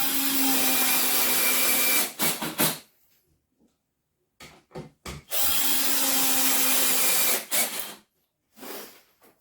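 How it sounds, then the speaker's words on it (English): Power drill driving screws to fix a piece of wood onto a workbench, heard as loud close whirring bursts of a couple of seconds each, broken by short clicks and pauses, with a final brief run. "screw a piece of wood down onto the bench, like so"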